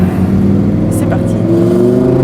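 A Lamborghini Huracan's engine accelerates close and loud, a steady low drone rising in pitch with a few brief higher clicks and whooshes over it.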